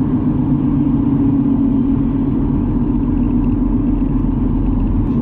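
Dacia Duster cruising in sixth gear at about 60 past a construction site, a steady low engine and road rumble that holds constant and fairly loud throughout with no talking.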